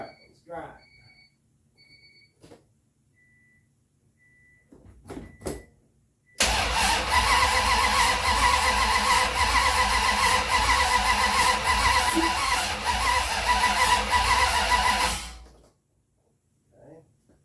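A Honda with a swapped-in 440 engine cranks and fires up, then runs loudly and steadily for about nine seconds before shutting off, following quiet garage clicks and movement.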